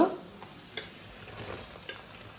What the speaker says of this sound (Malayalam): പച്ചമുളക് ഇട്ടു